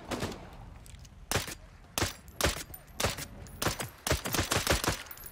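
Pistol fire in the Blood Hunt video game rings out as a series of sharp, loud cracks, single shots and quick bursts spaced irregularly over a few seconds.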